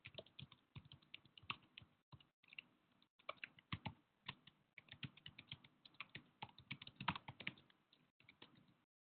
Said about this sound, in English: I'm just typing some responses.